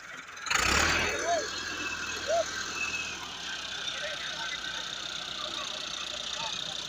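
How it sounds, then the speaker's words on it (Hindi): A Massey Ferguson 385 tractor engine idles steadily in a rural village setting while a trolley is loaded, a continuous low rumble running under nearby voices after a loud burst at the start. "मैसी फर्गूसन 385 ट्रैक्टर है"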